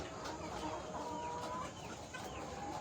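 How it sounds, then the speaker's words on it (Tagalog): Hens with chicks cluck softly over a dense, noisy farmyard background, with scattered short calls across the whole moment. "Yan, may manok na may sisiw."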